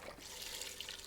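Chicken stock being poured into a soup pot, a steady, soft stream of splashing liquid, faint and close, with no voices.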